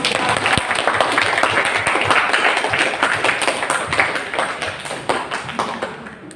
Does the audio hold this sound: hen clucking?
no